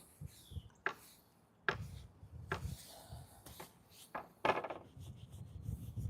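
Wood stain being rubbed onto a wooden furniture piece along the grain, quiet scraping and rubbing strokes in a slow, irregular rhythm of about six passes, close by and faint.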